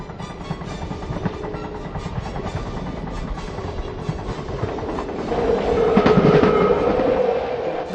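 An armored railway car rolling along the rails, a steady loud rumble with clattering wheels that swells and grinds louder toward the end, with no voices.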